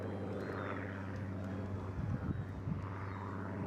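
Rolls-Royce's wartime aircraft PS853, in 1945 RAF colours, flying at the Eastbourne International Airshow: a steady droning engine roar holds throughout, swelling slightly near the middle as it passes.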